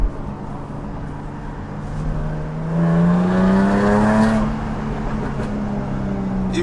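Jaguar F-Type with all-wheel drive launching hard from a standstill, its exhaust swelling into a loud rising roar mid-clip before easing back, with a few crackling pops as it settles.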